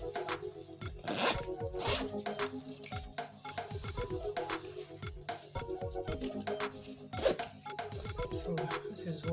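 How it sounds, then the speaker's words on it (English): A zipper is pulled open on a handmade bag sewn from Ankara African print fabric, giving close, repeated rasping zips with brief pauses between pulls and a steady low hum underneath. "So we'll open the zipper and we'll turn the bag inside out."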